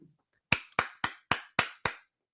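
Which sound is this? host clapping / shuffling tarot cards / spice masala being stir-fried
host clapping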